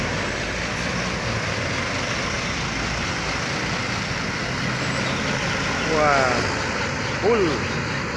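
A trailer truck idles while stopped on a hill road, its steady low engine rumble running through the whole stretch, with brief louder swells near the end as other traffic passes.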